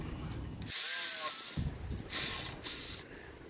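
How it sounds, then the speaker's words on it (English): A power drill whines in short bursts boring through stainless steel, revving up and cutting out several times, close and loud. "if it's even going to drill through that stainless steel"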